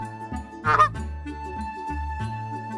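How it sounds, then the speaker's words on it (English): A goose gives one loud, short honk over a light, steady musical backing. "Goose."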